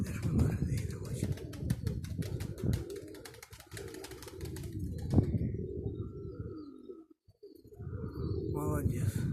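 Pigeons coo and call close by while strong wind blows, and a person talks over the birds.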